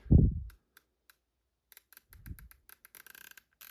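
Sharp, light clicks from the turret of a Discoveryopt HD 5-30x56 GENII riflescope being adjusted, a few isolated ticks at first and then a quicker run of close-up detents, after an opening low thump.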